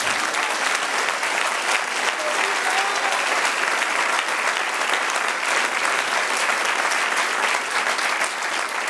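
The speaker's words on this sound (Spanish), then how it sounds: "Den un aplauso al Señor." A church congregation breaks into steady, dense applause that fills the sanctuary, continuous and loud from start to finish with no talk over it.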